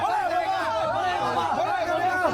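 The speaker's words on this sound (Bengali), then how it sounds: "কোথায় আর ভিড় দেখেন, প্রচুর ভিড়।" A large crowd of pilgrims chatters at Jalpesh temple, many voices blending into a steady, close murmur.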